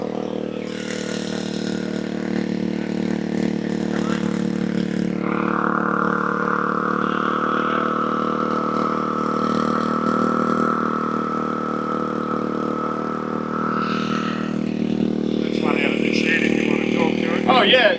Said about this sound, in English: We're just going to rev it up.